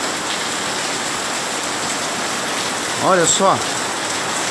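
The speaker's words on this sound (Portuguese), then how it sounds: "Olha a chuva que tá aqui em Tamandaré" Heavy rain pours steadily in Tamandaré, a loud, dense hiss throughout; a person speaks briefly near the end over the downpour.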